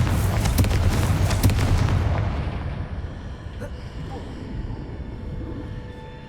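A loud rumbling blast from the Confringo fire spell in Hogwarts Legacy bursts at the start, then decays into a low fading rumble with faint game ambience.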